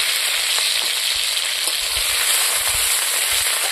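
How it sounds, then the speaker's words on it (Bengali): Crushed garlic and green chilies fry in hot oil with bay leaves for a village-style chicken curry, giving a steady, dense sizzle close by with faint crackles and no talking. "রসুনটা ভাজা ভাজা হয়ে গেছে,"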